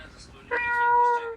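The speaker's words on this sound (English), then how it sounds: "It meows sadly as if pleading you to come back." A cat gives one drawn-out, plaintive meow, clear and close, rising and then trailing off after a brief quiet rustle.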